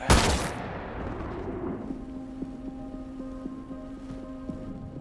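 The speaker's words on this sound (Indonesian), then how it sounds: "Sakata langsung menembak mati Fujita." A single loud gunshot in a film scene as a man is shot dead, a sharp close blast followed by a decaying rumble and a low lingering tone.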